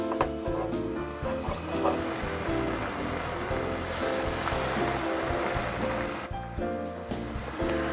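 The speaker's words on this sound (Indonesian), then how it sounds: "Dan semua bahan sambal tumpangnya ini saya rebus sampai matang ya" A pot of water boils sambal tumpang ingredients, including candlenuts, producing a dense, constant bubbling roar close up with no talking.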